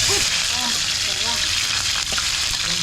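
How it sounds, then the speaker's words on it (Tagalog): Cooking oil heats in a pan at a fish catch-and-cook, giving a loud, steady, close sizzle throughout with faint voices beneath. "Bali nagpapainit na kami ng mantika dito."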